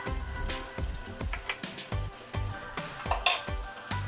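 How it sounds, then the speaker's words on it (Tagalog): Spoon stirring Ilocano igado with oyster sauce in a pan, a series of irregular clinks and scrapes against the metal roughly every half second, with light sizzling underneath. "Then halu-haluin natin siya"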